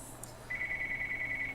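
A telephone rings with a single sustained electronic tone that starts abruptly and holds steady. It sounds close and clear over a quiet room.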